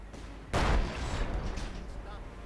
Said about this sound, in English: Howitzer getting ready to fire.